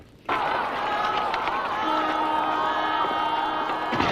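A large crowd of people cheers and shouts, a dense, loud roar of many voices starting abruptly and holding steady throughout.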